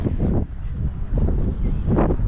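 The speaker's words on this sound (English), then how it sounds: "So windy." Strong wind outdoors at Mountfichet Castle in Essex, loud blustery gusts buffeting the microphone in uneven rumbling waves.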